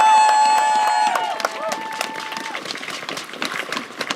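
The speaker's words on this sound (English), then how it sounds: "Another round of applause, please." A rally crowd defending East Phillips in Minneapolis breaks into applause and cheering, starting under a whistled or sustained tone that fades, then scattered loud claps and crowd noise continue.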